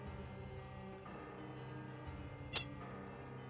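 A cat meows softly, its faint cry sitting over a steady low hum in an indoor room.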